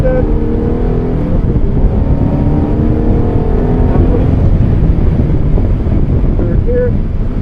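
A Fiat-Ferrari car engine pulls hard under acceleration, a loud, steady drone with rising tones, heavily buffeted by wind noise on the microphone.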